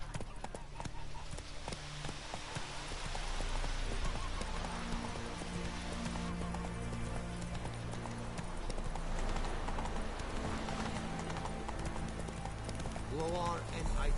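Horse hooves clip-clopping at a gallop in The Witcher 3, a fast continuous rhythmic pounding with game sounds and a voice talking over it.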